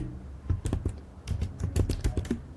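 Code is being typed on a computer keyboard in quick, uneven bursts of close, soft clicking keystrokes, with no one speaking.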